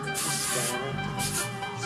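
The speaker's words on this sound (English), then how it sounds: "I usually start by trying to spray my roots a little bit" An aerosol can of hair spray is sprayed onto the hair roots in two short, close hissing bursts separated by a brief pause.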